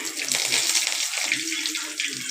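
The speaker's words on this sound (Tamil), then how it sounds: "கடுகு பொரிஞ்சதும்" Mustard seeds splutter in hot oil while a potato and appalam kootu is cooked, giving a dense, steady crackling hiss throughout with a voice faintly underneath.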